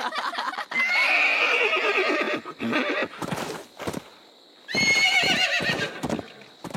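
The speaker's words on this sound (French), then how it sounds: "Attendez un peu d'avoir vu mon nouveau poney." A young pony neighs loudly twice amid brisk clip-clopping hooves, the whinnies shrill and close with a short pause between them.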